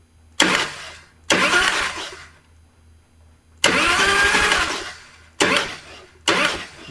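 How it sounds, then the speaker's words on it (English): Harley-Davidson EVO engine with its spark plugs out, cranked on the starter in five separate bursts of loud whirring, each cut off abruptly with quiet gaps between and no firing. "Going to turn the key on and bump the starter."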